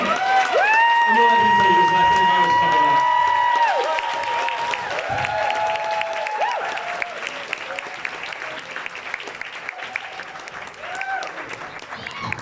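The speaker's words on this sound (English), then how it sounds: "So give a nice round of applause." A comedy club crowd at a stand-up show applauds loudly, the clapping gradually thinning and fading while a voice speaks over it.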